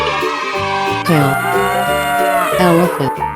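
Cartoonish cow in a 3D animal slide video game lets out a loud, drawn-out moo, followed by a second shorter low moo, heard close up over faint game music.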